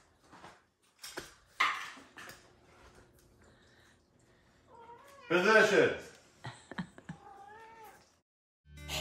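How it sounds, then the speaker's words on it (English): Several cats meowing in a bedroom, scattered drawn-out meows and yowls with gaps of near silence between them, close by, with a brief spoken word from a person. "as a big congregation of cats"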